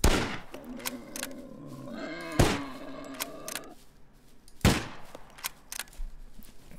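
Several sharp gunshots ring out in the SCUM survival game, two loud isolated cracks a couple of seconds apart standing out over a tonal in-game background hum, with no talking.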